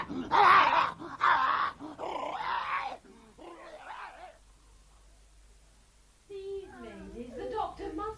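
Simba, a dog held steady under a net, gives loud close grunting growls and rough panting in the first three seconds. Calmer breathing follows, then someone speaks soothingly to the dog near the end.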